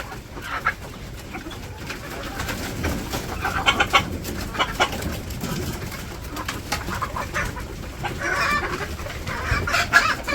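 Chickens cluck and murmur around a village yard, with scattered bird calls over a steady outdoor background, moderately close and ongoing without talk.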